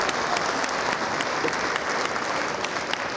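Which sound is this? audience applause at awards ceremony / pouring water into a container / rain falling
audience applause at awards ceremony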